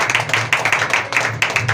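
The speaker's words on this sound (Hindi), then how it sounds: "प्रभु यीशु मसीह के प्यार के लिए तालियां हो जाए, जोरदार तालियां होना चाहिए।" Loud, rapid clapping from a church congregation, sharp uneven hand claps repeating steadily for under two seconds in praise of Jesus, with no talk over it.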